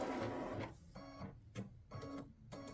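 An embroidery machine stitching a dog-themed greeting card gives a steady mechanical whir broken by rhythmic needle-and-carriage pulses repeating about every half second, close and fairly quiet, with no voices.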